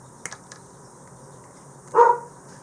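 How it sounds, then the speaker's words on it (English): A dog outside wanting to come in gives a few faint, distant yips, followed by one louder, fuller bark in an otherwise quiet room. "You can hear my dog wants to come inside."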